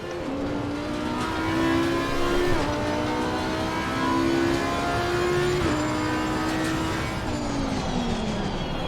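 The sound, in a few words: race car engine downshifting in a sim racing video game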